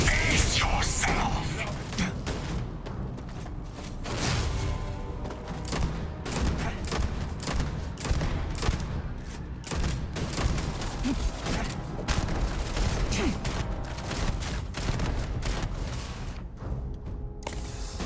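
Dense, continuous gunfire and bursts of shooting from the video game Starfield, with rapid cracks and booms layered over game noise and a voice talking throughout.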